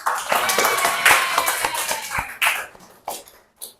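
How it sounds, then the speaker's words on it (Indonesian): Classroom applause from a group of students, dense clapping near and loud at first, then thinning into a few scattered claps that stop and restart briefly toward the end. "Boleh kasih applause untuk kita semua?"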